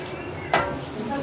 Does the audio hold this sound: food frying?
yes